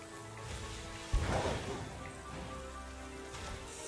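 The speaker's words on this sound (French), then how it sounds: "Il pleut" Rain falling in the video game Pokemon Violet makes a soft, steady patter and hiss, with one muffled thud early on.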